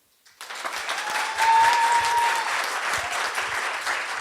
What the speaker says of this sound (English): Let's give a round of applause for one,